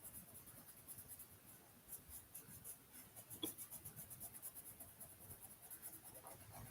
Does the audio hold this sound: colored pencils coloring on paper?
yes